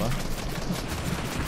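Rapid automatic gunfire from other players in a shooter video game, a steady dense rattle throughout, moderately loud with faint voices mixed in.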